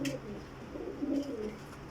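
Desi pigeons coo softly in short, low, repeated calls, faint and close, with no voices around.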